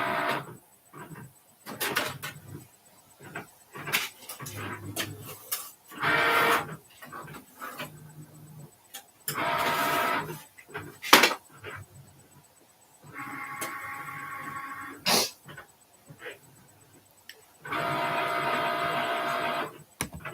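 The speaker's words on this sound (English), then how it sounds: "Waiting on Cricut to get it cut out." A Cricut cutting machine works through a laminated print, giving short whirring carriage moves and buzzing cuts in irregular bursts separated by quiet pauses, close and fairly soft.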